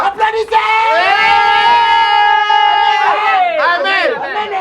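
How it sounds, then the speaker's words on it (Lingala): Guests at a surprise birthday party whoop and cheer together in loud, close, high-pitched voices. The shouts swell into a sustained cry, dip, then rise again in a burst of excited calls. "Applaudissez!"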